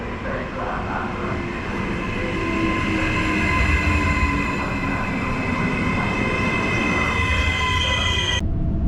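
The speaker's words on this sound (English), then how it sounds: "Out of the train station." Regional train at an Italian station in Venice: a loud, sustained rumble of rolling stock with high squealing, ringing tones from the wheels and brakes, cutting off abruptly near the end.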